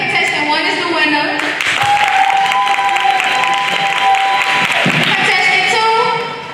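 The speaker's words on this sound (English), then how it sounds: "Clap if y'all think contestant 1 is the winner." Audience at a spring arts showcase game breaks into clapping and cheering, a loud sustained wave of applause that fades out near the end, with voices mixed in.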